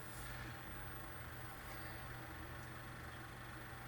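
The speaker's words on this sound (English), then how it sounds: "Fan starts spinning." Small cheap Chinese diesel heater with its blower fan spinning up, a steady low hum and broadband whoosh of airflow, continuous and fairly quiet with no talk.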